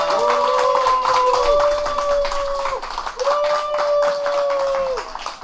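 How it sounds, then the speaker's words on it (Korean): A church congregation at a century-old rural village church claps in welcome, a dense, energetic burst of many hands heard near and loud, with sustained tones sounding over the clapping. "환영의 또 박수, 감사의 박수 힘차게 모시겠습니다."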